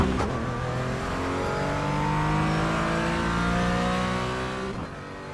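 Porsche Cayman on a race track: a sustained engine note climbing through gears, steady and close as from inside the car, with no talk.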